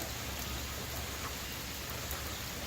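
Steady, dense rainfall hissing evenly throughout, heard while jogging, with no voices or other distinct sounds.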